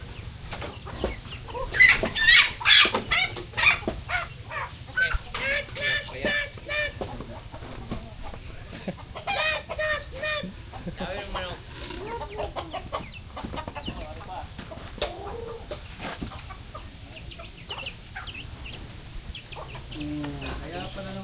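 Several chickens cluck and squawk nearby in a busy flurry at first, settling into scattered clucks, with people talking faintly in the background.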